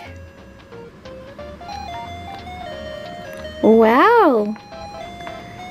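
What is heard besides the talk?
Hello Kitty toy cell phone ringtone music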